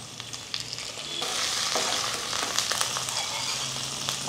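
Ginger-garlic paste sizzles in hot oil with cardamom pods, a piece of cinnamon, bay leaves and green chilli, a continuous close frying hiss that swells after the first second, broken by scattered stirring clicks.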